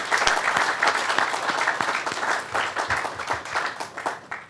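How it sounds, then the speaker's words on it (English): Audience applause for Scarlett at a headquarters groundbreaking ceremony: dense, steady clapping from a crowd, fairly close and sustained throughout without pause. "So let's all thank Scarlett and give her a round of applause"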